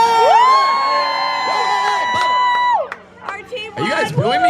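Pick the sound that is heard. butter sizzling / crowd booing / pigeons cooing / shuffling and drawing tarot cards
crowd booing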